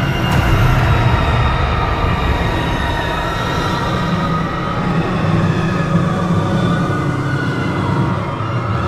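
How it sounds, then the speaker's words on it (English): A train roars loudly and steadily past an old station in a horror video game, a continuous rumbling rush with a high metallic whine and no voices. "The train's moving that fast"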